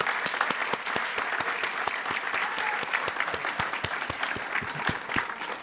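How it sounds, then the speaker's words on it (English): An audience applauds volunteers at a gathering, a dense steady burst of clapping from many hands lasting throughout, close and lively with no talk over it. "A round of applause for volunteers."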